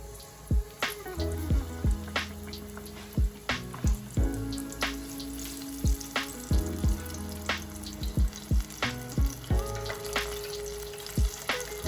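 Battered fish pieces frying in hot oil over medium heat, a steady sizzle broken by repeated sharp clacks and taps from utensils, close and clear with no talking.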